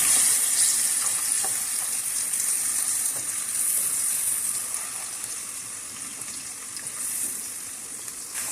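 Onions sizzle in a pan while frying to light brown for matar keema, a continuous soft crackling hiss heard up close and fairly quietly, with no talking.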